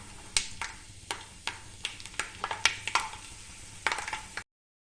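Peanuts fry in oil in a pan for Kolhapuri bhadang, giving a soft sizzle under a rapid, irregular run of sharp crackles and taps that sound like nuts or a spatula hitting the pan, ending abruptly.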